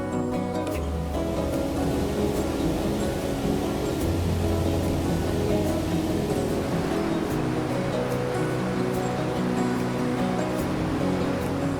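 The Iguazu waterfalls send out a continuous, dense low roar of falling water that stays loud and unbroken throughout, with no voices over it.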